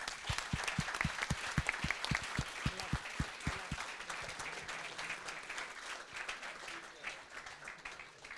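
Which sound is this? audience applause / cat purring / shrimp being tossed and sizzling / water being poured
audience applause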